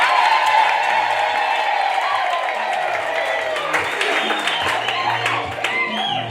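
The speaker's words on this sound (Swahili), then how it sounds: "Ongeza makofi na vigelegele." Audience at a church gathering applauding and clapping with some cheering and ululation, a steady dense wash of hands throughout, fairly loud and close, with voices mixed in.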